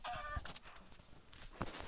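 Short Minecraft chicken clucks and squawks pop up over a steady hissy background, a few scattered calls close by.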